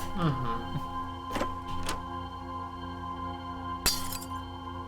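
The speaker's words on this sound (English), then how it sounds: "If you ever want to break some glass here, have these panes of glass to cause chaos with." Panes of glass smashed in a video game: three or four sharp shattering crashes, the last one loudest, over a steady musical drone.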